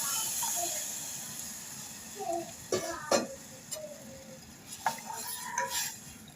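Whole spices tempering in hot oil for a soup of boiled chickpea water: a faint sizzle with a spoon stirring and knocking sharply against the pot a few times, close by.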